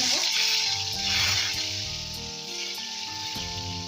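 Oil frying in a kadai for a home birthday menu of Bengali fried dishes such as potol and potato, a steady close sizzle with background music tones running throughout.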